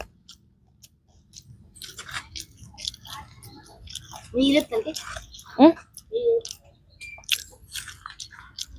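Someone eats a samosa during an eating challenge, with a few close, crunchy bites and chewing sounds mixed among scattered voices and quiet pauses.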